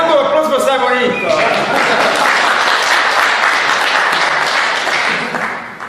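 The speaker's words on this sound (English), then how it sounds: "a round of applause for Simonito." Strong conference audience applause in a London hall, dense sustained clapping that swells right after a spoken introduction and carries on for several seconds before thinning out.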